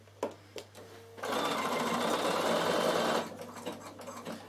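A Bernina sewing machine stitches wool felt for a door stop in one steady, close, continuous run of about two seconds, with a few quieter clicks and handling noises before and after.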